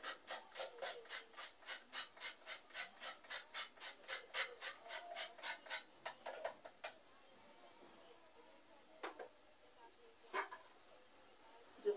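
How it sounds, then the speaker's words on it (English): Whole nutmeg scraped on a grater in a steady run of about twenty rhythmic rasping strokes for Jamaican peanut punch, close and fairly quiet, then a few scattered scrapes. "So I'm gonna grate a little piece of nutmeg also in it."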